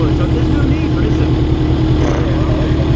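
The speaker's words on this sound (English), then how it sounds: "I said, there's no need to keep revving up." Motorcycle engine held at steady high revs, a continuous loud droning rumble with strong low harmonics throughout, while people talk over it.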